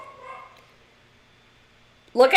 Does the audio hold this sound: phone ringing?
no